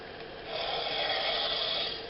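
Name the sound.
Disney Pandora Ikran Banshee puppet toy breathing sound effect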